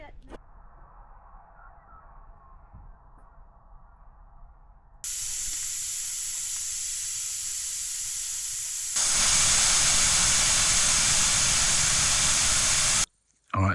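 Coffee pot on a camp stove in snowy mountain camping conditions, building from quiet to a loud, steady steaming hiss that intensifies in stages and cuts off abruptly near the end, with speech early on.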